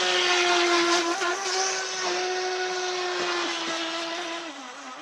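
A boat engine revs hard in a burnout, a loud whining drone with rising and falling pitch that holds steady, then dips toward the end, with no talking.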